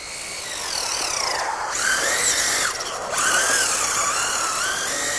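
An LRP S10 Blast 2 RC car held at full throttle on a 3S LiPo gives a loud, steady high-pitched electric motor whine that swoops up and down in pitch as it speeds past, with no talking.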